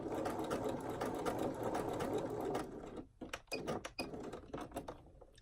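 Regular home sewing machine running a stretch stitch on bikini fabric, a loud continuous close whir for a few seconds, then stopping into scattered clicks and handling sounds.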